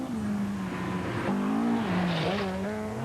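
Classic rally cars race on a loose forest stage, one engine droning near and steady with pitch rising and falling through gear changes and corners, no talk.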